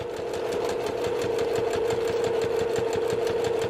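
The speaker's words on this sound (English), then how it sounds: "I'm going to sew all the way down" A sewing machine stitches a pillowcase seam through layered cotton fabric, running steadily at close range with a fast, even needle rhythm and a constant motor whine, with no talking.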